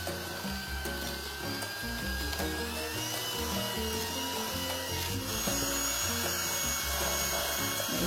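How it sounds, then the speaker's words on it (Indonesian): Electric hand mixer beating cake batter for steamed blossom cupcakes until the sugar dissolves, a continuous whirring motor hum with slight shifts in pitch, close and steady with no talking. "Kemudian mixer adonan sampai gulanya halus."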